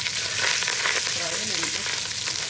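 Green chili frying in a pan for egg dum biryani, a loud steady sizzle with a few scraping stirs, close up and without talk.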